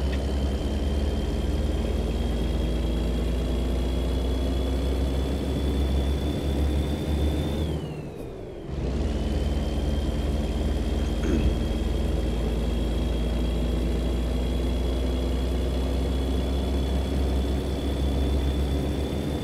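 Truck engine idling in American Truck Simulator, a steady loud drone with a faint whine on top, briefly cutting out and dipping before resuming at the same level.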